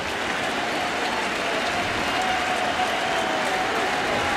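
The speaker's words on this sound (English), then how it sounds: "A lively crowd on a Friday night" Steady, lively crowd roar with applause at a Friday night baseball game, Phillies at Mets in 2004, a continuous dense wash of cheering and clapping filling the stadium without a break.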